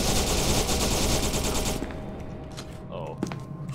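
Gunfire in SCP: Secret Laboratory: a loud, continuous stream of rapid automatic shots that cuts off abruptly after about two seconds, followed by quieter game noises and a single sharp report.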